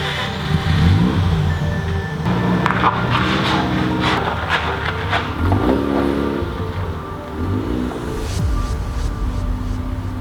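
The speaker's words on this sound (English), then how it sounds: "I gotta let that thing warm up a little bit so I don't flood the engine." A Mazda Miata car's rotary engine warming up idles and revs unevenly at close range, its rough, burbling note rising and falling steadily without pause.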